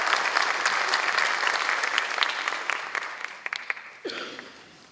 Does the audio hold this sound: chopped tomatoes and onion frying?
no